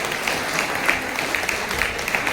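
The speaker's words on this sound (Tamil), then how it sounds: "கைத்தட்டுங்க அருமையான பாட்டு" An audience claps after a song at a film event, a short burst of dense, fairly even applause with a few sharper individual claps standing out.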